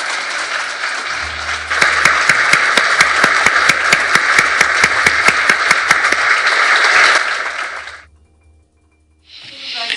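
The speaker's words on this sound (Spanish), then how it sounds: "permítanos expresarle de pie un sentido y sincero aplauso de reconocimiento" Standing ovation at a UN human rights event in Colombia honoring the High Commissioner, a dense, loud crowd applause with sharp individual claps that swells, holds steady for several seconds, then fades to near silence.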